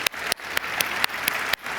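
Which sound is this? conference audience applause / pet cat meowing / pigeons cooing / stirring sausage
conference audience applause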